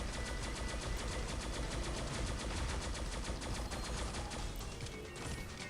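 Rapid sustained automatic gunfire from the Project Embra MK II gun in a video game, a dense continuous stream of shots with no pauses, loud and alone.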